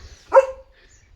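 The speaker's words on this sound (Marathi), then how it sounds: "आणि तो भुंकतच बसलाय बघा." A German Shepherd gives a single short, sharp bark up close, alone against a quiet background.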